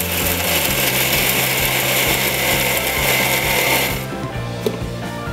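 A mixer grinder grinding a ginger, garlic and pepper spice paste, a loud, steady mechanical whirr with rattling that cuts off near the end, leaving a quieter hum.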